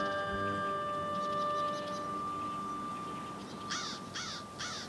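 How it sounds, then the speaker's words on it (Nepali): Crows at a Tokyo bird refuge give three loud, evenly spaced caws near the end, after a sustained tonal hum in the background. "काग उनीहरूको शत्रु हो"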